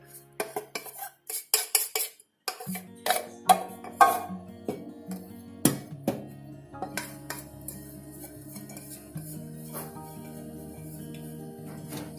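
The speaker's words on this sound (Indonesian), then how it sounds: "Diaduk, dicampur." Chicken biryani being stirred and mixed in a pot for Madras-style biryani, a metal spoon scraping and clinking against the pot in a steady run of close, irregular knocks and scrapes, louder at first and softening later.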